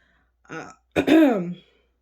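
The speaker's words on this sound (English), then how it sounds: "I might be clearing my throat or choking quite often in the video" A person clears their throat twice, a short rasp followed by a longer, louder grunting clear, close and alone.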